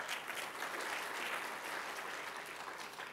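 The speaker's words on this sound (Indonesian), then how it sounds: "Tepuk tangan untuk Tuhan Yesus" Congregation at a church Sunday service breaks into steady, dense applause that fills the whole stretch at even loudness, with no voices coming through.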